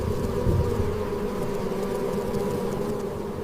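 Bees foraging among flowers produce a steady, close, continuous buzzing hum with no talk.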